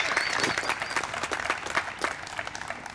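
A crowd at a university tribute event for the 20th anniversary of the 9/11 attacks gives a round of applause, dense clapping at moderate distance that stays steady throughout.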